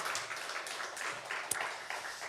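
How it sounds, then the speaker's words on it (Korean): A church congregation applauds during a Sunday worship service, a faint, even patter of many hands clapping heard from a distance, with no talk over it. "우리 하나님께 영광의 박수 올려드리겠습니다."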